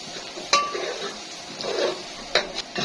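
A spoon stirs red pepper and paprika in a pot while making Egyptian sayadeya rice, with a few sharp metallic clinks against the pot over a faint sizzle, close by and fairly quiet.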